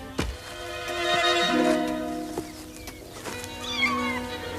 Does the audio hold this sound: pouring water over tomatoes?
no